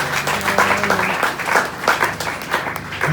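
A church congregation applauds during a French-language sermon on holy communion, a dense burst of many hands clapping steadily for a few seconds, close and fairly loud.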